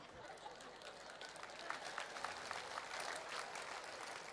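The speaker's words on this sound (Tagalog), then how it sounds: "Yung palakpak na yan" An audience at a Filipino mission gathering claps in sustained, dense applause, a steady patter of many hands heard from a distance and fairly quiet.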